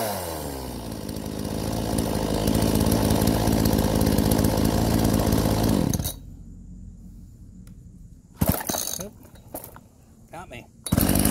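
A chainsaw with a freshly cleaned carburetor screen, running Klotz oil in its fuel, roars loudly and steadily up close for about six seconds. It then cuts out, followed by a few brief mechanical clatters and revs.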